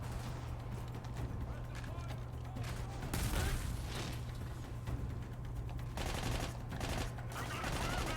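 Gunfire in the video game Army of Two: The 40th Day, dense continuous bursts of automatic weapons under a low steady hum, with a louder flurry of shots midway and voices heard briefly.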